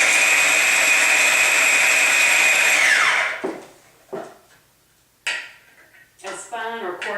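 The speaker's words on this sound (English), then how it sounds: "So if you have a food processor," A food processor motor whirs steadily while chopping guacamole ingredients, then winds down, followed by a few clunks and a voice talking.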